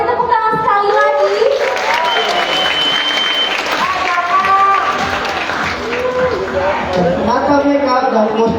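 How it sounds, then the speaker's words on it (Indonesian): Sustained applause from an audience at a stage event while performers and crew are introduced, dense clapping running steadily throughout with a voice talking over it. "Boleh kasih tepuk tangan sekali lagi"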